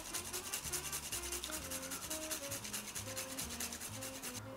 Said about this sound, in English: Got the nutmeg here. I'm just going to give this a little grate on top.